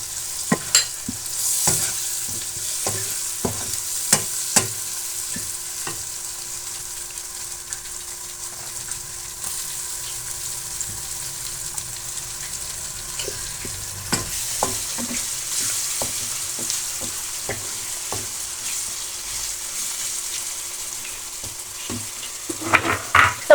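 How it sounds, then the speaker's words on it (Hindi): Tomatoes fry in a pan with chillies, garlic and ginger, giving a steady sizzle broken by repeated scrapes and knocks of stirring, close and continuous with no talking. "टमाटरों को हल्का सा फ्राई करने के बाद"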